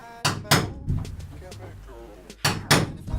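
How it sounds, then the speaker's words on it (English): A hammer striking a metal punch along the edge of a van window opening on a Mercedes Sprinter, sharp loud hits in pairs with a pause between, close by, with a voice talking softly in the background. "we're gonna use a punch and a hammer, and we're just gonna punch out the edge"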